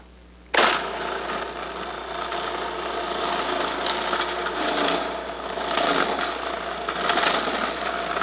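A Cuisinart DLC 7/8 series food processor shreds well-chilled mozzarella fed through the large feed tube: the motor kicks on abruptly and runs with a loud, steady whirring grind, swelling slightly as the cheese is pushed through.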